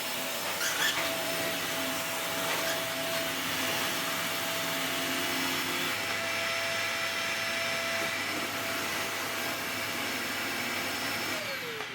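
Hoover HL4 bagless upright vacuum cleaner running steadily with a constant motor whine and airy rush, its tone shifting slightly partway through as the brushroll changes speed.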